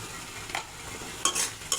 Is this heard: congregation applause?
no